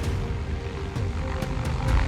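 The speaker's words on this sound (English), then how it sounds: "Among their most recognized machines of war is the MH-6 Little Bird." MH-6 Little Bird light helicopter used by U.S. Special Operations Forces, heard as a steady loud rotor and engine drone with low thumping throughout, close and continuous with no talk.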